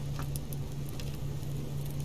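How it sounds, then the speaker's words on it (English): Rain pattering in the survival game Subsistence, a soft continuous patter with scattered brighter drips over a steady low electrical hum, no voices. "You wouldn't think I would need water because it's raining."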